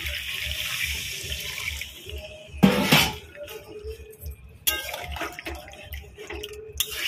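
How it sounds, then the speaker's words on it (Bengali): Hot water poured into a pot of chicken curry (chicken kosha), a burst of splashing and gurgling pouring in the middle, over a steady kitchen background with faint clinks and stirring after. "আমিও গরম জল দেবো।"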